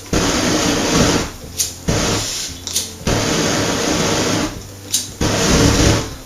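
A homemade gasoline blowtorch roars with a loud, steady, breathy hiss of burning flame, broken by several brief dips where the flow falters before surging back.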